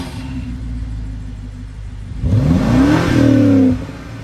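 A BMW X5 xDrive50i M-Sport's twin-turbo V8 idles with a low rumble, then revs up sharply with a rising whine and drops back to idle.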